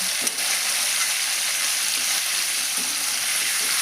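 Cauliflower and eggs frying in oil for a curry, giving a steady, dense sizzle that holds at an even level throughout, with faint stirring clinks now and then.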